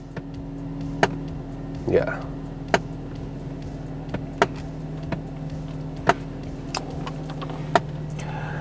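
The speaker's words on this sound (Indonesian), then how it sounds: "Dari bagian tengah dashboard tuh ada bunyi kayak bunyi diketok-ketok." From the middle of the dashboard of a Mercedes-Benz W203 C200 wagon, a faulty blower air flap knocks in sharp, evenly spaced taps about once a second, heard close over a steady engine hum while someone says a word.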